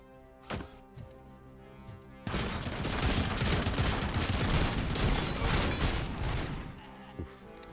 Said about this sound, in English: Didn't realize they had a big mounted machine gun